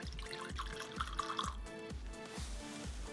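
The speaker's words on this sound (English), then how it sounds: "Why don't we pour it into our glass and let it open up a little bit more." Beehive Barrel Reserve gin glugs out of the bottle into a glass in a quick rhythmic series of about eight liquid gulps, close and quiet, with no talking.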